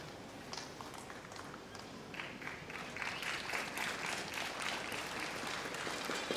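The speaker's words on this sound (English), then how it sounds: "Crowd trying to pump up Ishikawa, saying it's okay with applause." Crowd at a women's table tennis final at the 2014 Japan Open applauds for Kasumi Ishikawa after losing a point to Feng Tianwei, steady, dense clapping that swells and continues, moderately distant.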